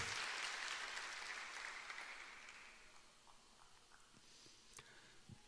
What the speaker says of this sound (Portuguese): E você mais uma vez pode aplaudir o Senhor pela sua palavra.